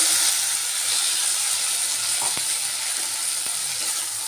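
Sliced ridge gourd frying in hot oil in a pan, a steady close sizzle with faint hiss and occasional soft clicks of stirring.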